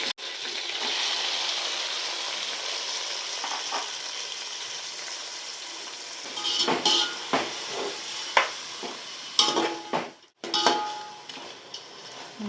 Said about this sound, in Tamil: இப்போ நம்ம வந்து சிக்கன் சேர்த்துடலாம் ஊற வச்ச சிக்கன்